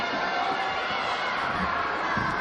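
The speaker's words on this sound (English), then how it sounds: "Listen to this crowd." Wrestling crowd at a PPW match in a packed house roaring and cheering continuously, a dense wash of shouts and chatter filling the whole stretch, loud and sustained.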